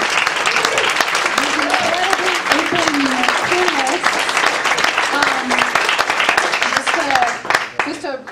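Audience at a talk event giving loud, close applause mixed with cheering voices and whistle-like calls, dense and continuous, tapering slightly at the end.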